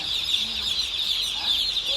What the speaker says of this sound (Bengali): কি দারুণ কিচিরমিচির শব্দ, আমার কাছে খুব ভালো লাগে